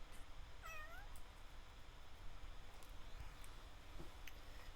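A domestic cat gives a single short, rising-and-falling meow early on, fairly faint over a quiet, steady background hush, in an advertisement for a cat water fountain.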